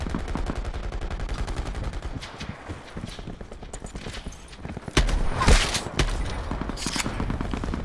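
Enemies fire in a video game shootout, with steady bursts of gunshots, some rapid and automatic, rolling through a busy mix, and a louder, closer blast hitting near the middle.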